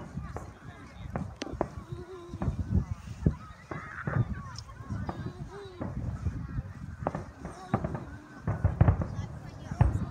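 Fireworks burst over the Plymouth fireworks championships, a dense run of sharp cracks and booms at varying distances, with crowd voices and honking sounds mixed beneath the steady barrage.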